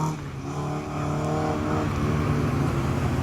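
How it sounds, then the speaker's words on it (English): A classic Saab 96 rally car with a V4 engine drives at a UK circuit rally, its engine note loud and close, holding a steady buzzing drone that rises slightly as it accelerates. "One of the more unusual rally cars, certainly in the UK, is this classic Saab 96. The V4 engine in that."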